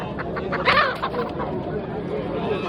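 A rooster clucks a few short calls against a busy background of murmuring and ambient noise at the Quva poultry bazaar in Uzbekistan.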